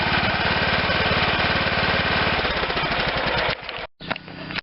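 A John Deere LT160 lawn tractor engine idles up close with a rapid, even chugging pulse, loud and steady before it briefly cuts out and sputters back near the end.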